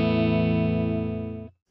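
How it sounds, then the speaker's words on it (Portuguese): Clean electric guitar tone at low gain from the middle pickup with no reverb: a single sustained chord rings out loud and steady for about a second and a half, then is cut off abruptly, with no voices. "Esse é o som limpo da guitarra"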